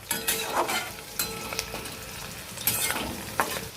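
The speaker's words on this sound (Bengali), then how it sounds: "কাঁচা লঙ্কা, শুকনো লঙ্কা, রসুন ও কালো জিরে খুব সুন্দর ভাজা হয়ে গেছে" Green chillies, dried red chillies, garlic and nigella seeds fry in oil, sizzling and crackling steadily, with a few louder pops and spatters rising over the continuous hiss, close up.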